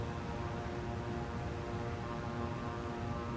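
A propeller aircraft engine in Microsoft Flight Simulator 2020 drones steadily, loud and close, as the throttle is eased up with no talk over it.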